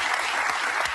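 Brief burst of audience applause at a stand-up comedy show, dense even clapping for under a second.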